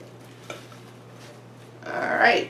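Apple crisp ingredients being stirred and tossed in a bowl, a soft scrape early on and then a louder rustling, scraping mix toward the end, close up and with no talking.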